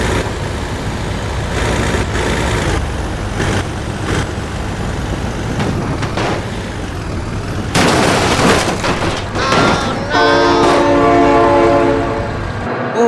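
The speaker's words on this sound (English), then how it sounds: "train!" A train horn blares continuously in the BeamNG driving game, loud and sustained, while the train rumbles past. Crashing and impact booms from a flatbed truck hitting speed bumps cut in over it, and the train is heavy and close throughout.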